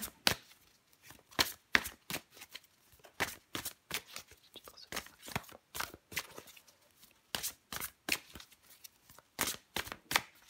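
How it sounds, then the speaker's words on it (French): Tarot cards are shuffled and drawn by hand in a close, quiet setting, with a string of sharp riffling and snapping bursts in an uneven rhythm and brief pauses between them. "je prends encore une carte pour vous, les béliers"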